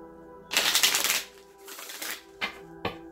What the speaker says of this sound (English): I'm gonna shuffle a couple of more times